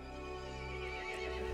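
A horse in the video game Resident Evil Village neighs in a sustained, wavering whinny with faint hoof clip-clops, heard faintly and alone with no talk.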